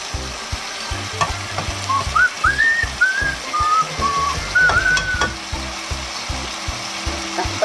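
Chunks of chicken fry with black mushrooms in a pan, a loud, steady sizzle broken by scraping stirs and a thin whistling tone running through the middle, with no voices.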